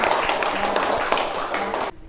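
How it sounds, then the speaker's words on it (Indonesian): A classroom group in an Indonesian Qur'an and Hadith lesson claps after student presentations: a dense, close burst of many hands clapping for about two seconds that then cuts off abruptly. "Kita berikan tepuk tangan."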